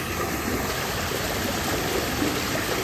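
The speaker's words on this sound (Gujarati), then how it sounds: "આટલું આવે છે જો પાણી." Water gushes from an old farm borewell as a continuous, loud, close rush of flowing water, with no talk over it.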